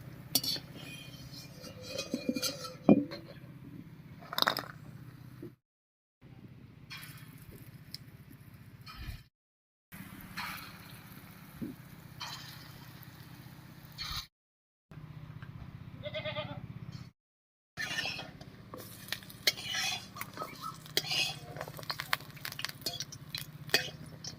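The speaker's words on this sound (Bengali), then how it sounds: "এই বড় কটাও ভাজা হয়ে গেছে একবার নামিয়ে নিচ্ছি" Fried fritters are lifted out of hot oil in a pan, with intermittent metallic clinks and scrapes of a spoon against the pan over faint background sizzle, close and fairly quiet, broken by brief silent gaps.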